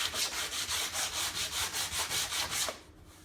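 Sandpaper being rubbed back and forth over a wooden crosscut sled for a DeWALT 7491XE table saw, a rhythmic series of about a dozen close, even rasping strokes that stop near the end.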